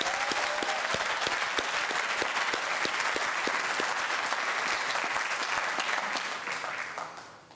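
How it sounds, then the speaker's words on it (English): A crowd at a high school graduation ceremony for a male leadership academy applauds the graduating class, with dense clapping and a few sharp individual claps standing out before the applause tapers off. "Let's give them a round of applause."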